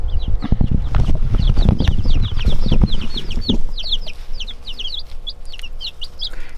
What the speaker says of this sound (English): You see 11 little chickies in there.